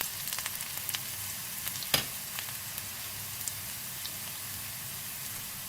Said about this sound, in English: Now add 1 teaspoon cumin seeds and sauté for few seconds.